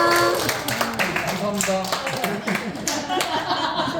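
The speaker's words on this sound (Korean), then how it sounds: "두 분한테도 큰 박수" Small audience at a Korean talk clapping in a loose, uneven patter, mixed with chuckles and overlapping voices speaking throughout.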